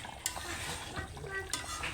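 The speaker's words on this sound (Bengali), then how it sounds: "আর একটু নাড়া দিব" Pangas fish curry stirred in a pot gives a few soft, quiet spoon scrapes and light liquid stirring, with two sharper knocks against the pot.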